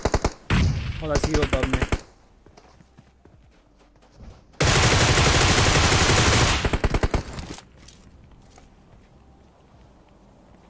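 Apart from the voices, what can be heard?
gunfire in a shooting video game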